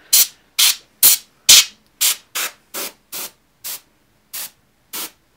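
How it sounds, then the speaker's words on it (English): Canned compressed air blowing dust out of the fans of a Retina MacBook Pro: eleven sharp, loud hissing bursts in a quick series, each short and evenly spaced, with the later ones a little softer. "the compressed air is nice and powerful and does a much better job of getting that dust out of the fans"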